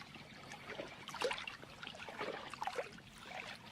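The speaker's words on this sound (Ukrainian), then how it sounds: "Це звуки води." Water trickles and bubbles gently in an irregular, faint stream, with small splashes rising and falling over a few seconds and no voices.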